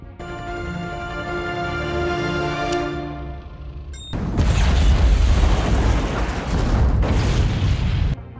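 A bomb detonates in a Terminator film scene, flattening buildings: a tonal buildup ends in a sudden, loud, broadband blast that rumbles on for several seconds before cutting off.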